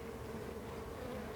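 Honeybees swarm and buzz around an open hive frame, a steady dense drone with no pauses, close and moderately loud throughout.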